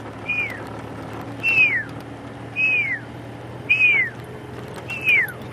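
Five descending whistles, each short and sliding downward, spaced about a second apart, performed by a human voice imitating a pearl-spotted owlet's call at sunset in the Sabi Sand, over a low steady hum.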